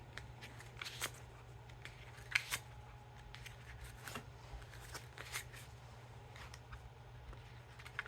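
Slippery Orange Notorious Gambling Frog playing cards cut one-handed: soft, scattered clicks and flicks of the packets, close and quiet, over a low steady hum.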